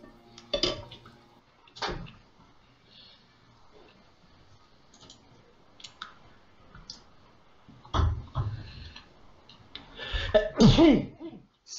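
A single sneeze bursts out during a tabletop Pathfinder session, sharp and close, among scattered clinks of dishes and cutlery and brief knocks, with faint voices at the end.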